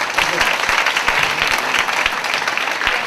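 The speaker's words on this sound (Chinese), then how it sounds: "让我们在座的各位来宾、各位同学们，请再给我们今天的主持人一次特别的掌声" An audience at a 2007 film and television department award ceremony applauding the hosts, dense sustained clapping from many hands in a hall, loud and continuous for the whole stretch.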